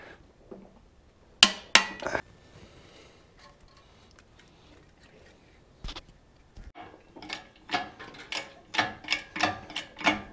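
Bolts on a cast winch housing being run down with a wrench, from a Hyster winch for a Caterpillar D4 dozer. A few loud metallic clanks come first, then a quiet stretch, then a quickening series of ratchet clicks and taps.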